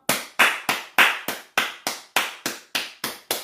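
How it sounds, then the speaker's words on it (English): Hands clap about eleven times at a brisk, even pace, each clap sharp and close with a quick decay, without any talking. "I clap for that."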